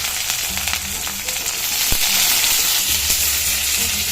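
Shallots, garlic and curry leaves fry in hot oil with popping mustard seeds and chillies, giving a steady close sizzle with a sharp crackle near the middle and a low tonal hum behind.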